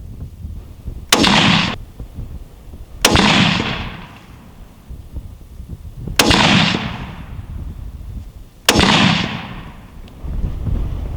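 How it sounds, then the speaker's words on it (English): A Remington rifle chambered in .30-06 fired at a target outdoors: four loud, sharp blasts spaced a couple of seconds apart, each followed by a long rolling echo that fades before the next. "That shot broke exactly like it should"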